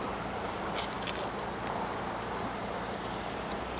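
A couple of crisp, crunchy bites of battered fish up close, each with a short crackle, over a steady outdoor background hum.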